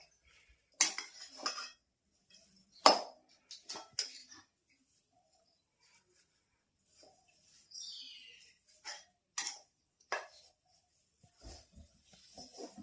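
A spoon works date paste with coconut and almond powder in a pan, giving scattered, close metallic clinks and scrapes with quiet pauses between them.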